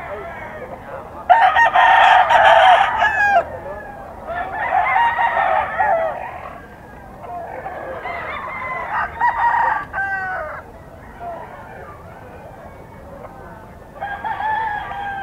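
Young roosters (stags) crow repeatedly at a fowl market in Bocaue, with four loud, drawn-out calls in a row and quieter market noise between them.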